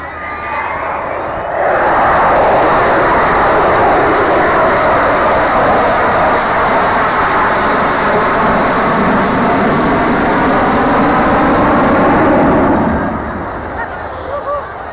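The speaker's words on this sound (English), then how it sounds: "That's the sound of four Rolls-Royce Bristol Olympus engines" A powerful roar from a bomber's four Rolls-Royce Bristol Olympus jet engines swells in loudly, holds at a thunderous steady level for about ten seconds, then fades as the aircraft passes at an air display.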